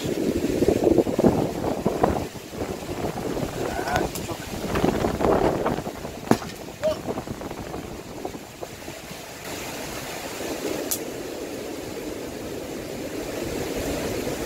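Typhoon wind gusting outdoors with rain, a steady broadband roar and rushing noise buffeting the microphone throughout, with brief stronger gusts and some clatter.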